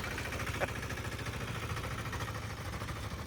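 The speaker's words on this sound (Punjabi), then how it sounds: "bullet motorcycle the engine tractor" A Bullet motorcycle engine fitted to a homemade tractor runs at a steady, low, throbbing idle, close and continuous with an even rhythmic pulse and no talk.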